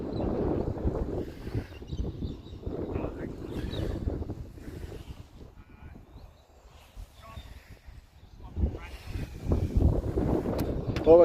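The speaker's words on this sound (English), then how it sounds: "A bit windy, but hopefully the audio is coming through okay." Wind at an outdoor cricket match buffets the microphone in heavy low rumbling gusts that rise and fall over about eleven seconds, with someone talking through much of it.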